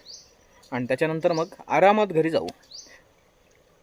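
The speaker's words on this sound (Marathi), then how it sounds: "आणि मध्ये मध्ये पक्षी ओरडतात" Brief high chirps from birds in a quiet forest near the seashore at the start and near the end, with someone speaking in between.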